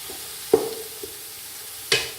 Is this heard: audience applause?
no